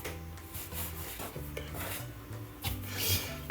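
A knife cuts through a basic bread dough near its middle, giving a close, steady rasping and scraping against a board for a few seconds, with no talking.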